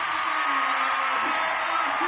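A basketball arena crowd at a women's college game roars after a three-pointer, a dense sustained wall of cheering and yelling that stays loud throughout.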